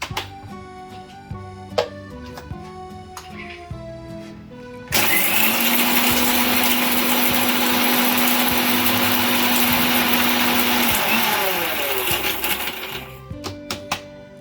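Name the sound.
grinding whole spices (cinnamon, cloves) in a grinder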